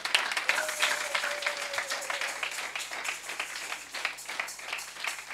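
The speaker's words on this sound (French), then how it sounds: "Acclame très fort pour la gloire du Seigneur." A church congregation applauds and cheers loudly during a service, a continuous dense wash of clapping with voices mixed in, steady throughout.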